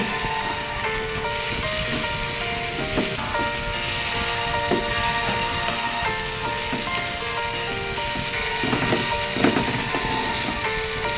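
Chicken and bitter gourd sautéing in a hot pan, a steady loud sizzle with occasional clicks and scrapes of stirring, continuous throughout.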